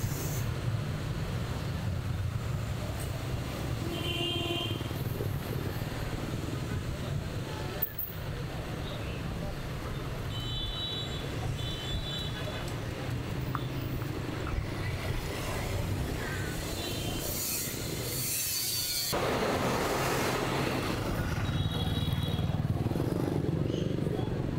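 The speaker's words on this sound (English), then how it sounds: "the sidewalks are completely full of motorbikes" Steady street traffic roar in Hanoi, Vietnam, with motorbike engines passing nearby, continuous hum and occasional higher buzzes, with a person talking over it.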